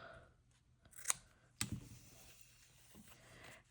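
Scissors cutting fabric for cottagecore quilted ghost crafts, two sharp close snips about half a second apart, followed by faint rustling in a quiet room.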